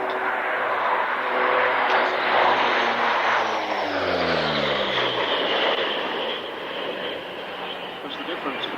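A Lockheed P-3C Orion turboprop, an upgraded 2.5 model, flies past at the 1996 International Air Tattoo airshow at Fairford, its loud, steady engine drone sweeping down in pitch as it passes. Faint voices sit under the roar.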